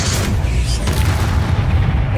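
A Confringo spell explosion in Hogwarts Legacy lands as a loud, sustained, booming blast with rumbling low end and a crackling hiss above, filling the whole moment.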